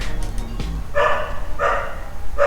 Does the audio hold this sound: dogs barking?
yes